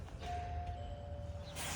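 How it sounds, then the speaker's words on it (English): A classic two-tone ding-dong doorbell at a house's front door rings faintly once, with a thin sustained chime tone over steady room noise. "We'll do the doorbell just to see how it sounds."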